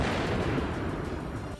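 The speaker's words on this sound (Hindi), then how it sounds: "चीन की मिसाइलों से होने वाला धमाका चारों तरफ गूंज उठा" Missile explosions from a Chinese military drill, with multiple launch rocket systems firing, form a dense, loud, continuous roar of blasts, close and overwhelming, with no voices.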